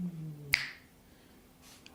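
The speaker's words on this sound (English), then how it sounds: "How about if I just snap my fingers for you instead?" A single sharp finger snap near the microphone, standing alone after a brief low hum, followed by quiet room tone and a faint click.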